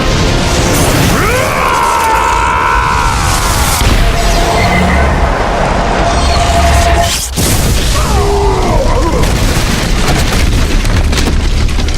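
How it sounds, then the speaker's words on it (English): A magical explosion in a fantasy audio drama, as a sword strikes magic: a dense, loud roaring blast with sweeping tonal whooshes and rumbling debris sustained throughout, a brief drop midway, no voices. "Only Kyler was still standing, shielded from the magical explosion by the Kakari covering his skin"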